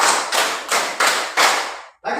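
Hands clapping in a steady rhythm during a classroom energizer, five loud close claps evenly spaced, then a short pause before another begins.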